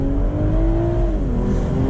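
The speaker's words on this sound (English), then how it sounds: "Full acceleration." A 2023 BMW Z4 M40i pulls hard under full acceleration on a highway, its engine drone rising steadily and loud from inside the car, with no talk over it.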